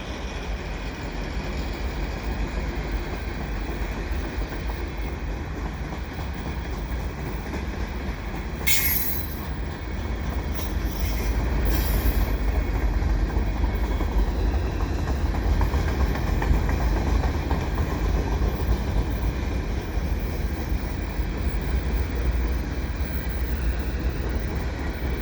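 QNS&L freight train hauled by rebuilt AC4400CW locomotives rolling past in winter, a long continuous rumble of wagons with brief high wheel squeals, steady and fairly close.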